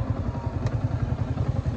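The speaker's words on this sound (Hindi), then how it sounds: "अभी ये चला रहा है डोमिनार, मैं चलाऊंगा इसकी R15" Motorcycle engine noise from a drag race between a Yamaha R15 150cc and a Bajaj Dominar 400cc, a loud, close, steady throbbing pulse with a rattling edge and no talking.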